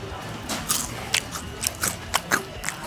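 Crispy fried chicken skin bitten and chewed close up at a Thai seafood restaurant, a series of sharp crunchy bites spaced about every half second, with faint background noise.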